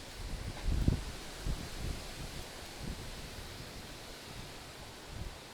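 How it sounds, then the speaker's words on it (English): Wind by the river at East River Flats Park in Minneapolis, Minnesota, a steady broadband rush with a few stronger low gusts, heard alone without talk. "So you know it's kind of windy"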